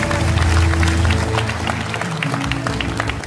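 An audience claps for provincial council members being introduced at a political event, loud applause with a low hum and background murmur underneath, tapering slightly toward the end.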